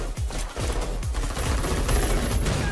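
Rapid gunfire from a Dendro pistol in a Genshin Impact fan-made film, dense bursts of shots and low booms layered in a loud, busy battle mix.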